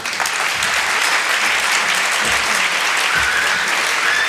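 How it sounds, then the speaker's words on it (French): Audience at a PechaKucha conference talk on schizophrenia applauds, a dense, steady burst of many hands clapping that fills the room throughout, close and loud. "On peut l'applaudir, c'est à vous."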